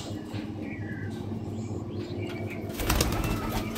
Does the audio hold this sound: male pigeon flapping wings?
yes